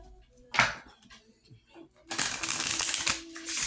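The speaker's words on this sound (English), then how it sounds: "Shuffle them up really good one more time." Tarot cards being shuffled by hand, with a brief riffle early on and then a longer, louder burst of crisp papery flicking close up, with faint voice traces in the background.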